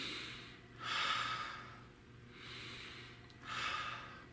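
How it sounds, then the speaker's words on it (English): Slow deep breaths drawn in and let out, three long airy swells in a steady rhythm, soft and close, with no talking. "take a few deep breaths"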